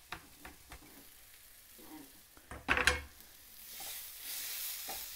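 Onions, garlic, ginger and green chilli frying in a pan for an Indian-style vegan aloo tikki: a quiet, steady sizzle with stirring scrapes and a brief clatter of utensils near the middle.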